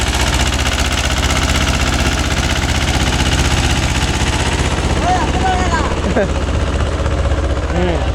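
A Mahindra 265 DI tractor pulls a 36-blade rotavator through soil, its diesel engine a loud, steady, rough drone with rotor clatter throughout, while a few voices talk over it.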